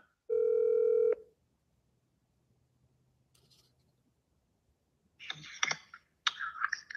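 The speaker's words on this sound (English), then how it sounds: "Whose phone is going to ring?" A phone ringing after its number is dialed in a woodworking shop: a steady tone burst first, then after a quiet gap two rounds of bright, trilling ring bursts, moderately loud and close, with no talk.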